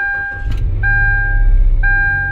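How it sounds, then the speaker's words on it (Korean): A Kia Ray car engine starts after a battery replacement, a brief crank followed by a steady low idle with a faint electronic chime tone running over it, close by and with no talking. "이번에 시동을 걸어주면"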